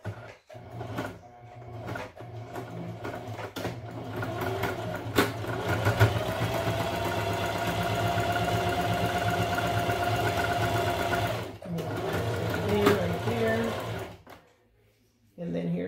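A sewing machine back-stitches a round envelope pillow cover, its motor whirring in a steady close run for about ten seconds between short bursts, with brief pauses and faint handling at the start and end.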